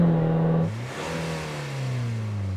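Off-road car engine, a Jimny, Wrangler or Bowler, revving hard into a soft limiter at 3,500 RPM, its pitch dropping sharply then climbing again in a loud, close, coarse drone.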